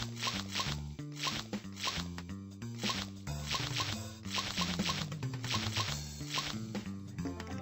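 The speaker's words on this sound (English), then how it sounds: "Zips up." A zipper zipped up in quick repeated pulls, crisp rasping strokes in a steady rhythm, heard close over loud music playing throughout.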